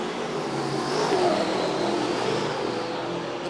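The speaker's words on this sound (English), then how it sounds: "Super Sedans are being battled here tonight" Super Sedan race cars at Gympie Speedway roar steadily in the distance, a continuous broad engine drone swelling slightly midway with no pauses.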